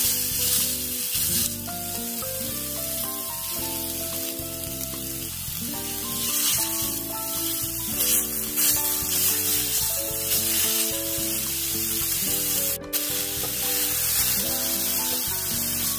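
Turkish köfte meatballs sear in a hot pan with a steady, loud sizzle and crackle of frying fat that runs unbroken throughout, with faint scraping as they are moved, and music playing underneath.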